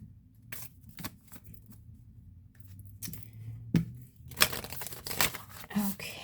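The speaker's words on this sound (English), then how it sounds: "Sometimes when I shuffle, I pick up the cards." Tarot cards being shuffled by hand, soft papery riffles and slaps in scattered bursts over quiet background, close and light, with no voices.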